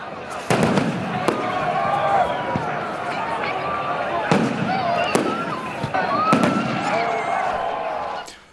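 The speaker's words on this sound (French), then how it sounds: "des milliers de personnes se sont retrouvées sur la corniche pour admirer de somptueux feux d'artifice" New Year's fireworks burst in sharp, repeated bangs over a lively crowd of thousands on a seafront promenade in Agadir, Morocco, with whistles and crackles between the explosions.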